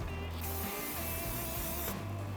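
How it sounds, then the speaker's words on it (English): Two short hissing bursts of cooking spray onto a hot grill, one at the start and one near the end, over a steady low mechanical hum. "Let's give it a quick spray and throw the sujuk down."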